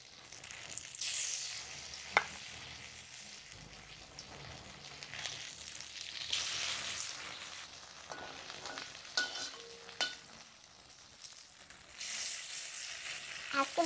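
Sesame-coated jute-leaf fritters frying in mustard oil in a wok, a fairly quiet hissing sizzle that swells in waves, with a few spatula taps and clinks as pieces are added and turned.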